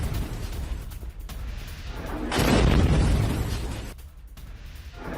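Bombing on the outskirts of Beirut sets off a deep rumbling blast that swells in the middle and slowly fades, with a lower rumble before and after, carried as distant-sounding, heavy booms in news footage.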